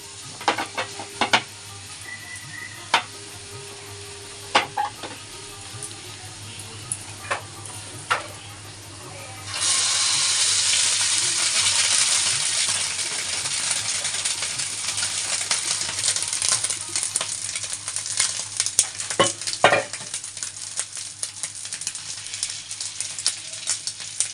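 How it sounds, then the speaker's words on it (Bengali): Fish roe frying on a hot tawa, a soft crackle with scattered utensil taps that suddenly swells into a loud, steady sizzle midway and keeps hissing with occasional clinks of metal. "মাছের ডিমটা এটা এই তাওয়ার মধ্যে ভেজে নেবো"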